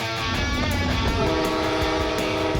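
An FL9 diesel locomotive on a Cape Cod dinner train sounds its horn loudly and close, a sustained multi-tone blast that swells and holds over the engine's rumble.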